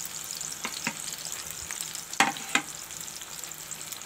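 Beef chutney frying in hot oil with salt, garam masala and black pepper, a steady close sizzle broken by a few sharp spoon scrapes and knocks against the pan.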